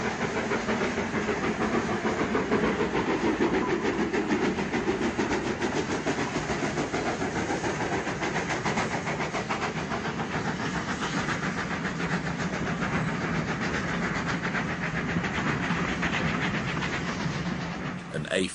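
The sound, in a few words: passenger train passing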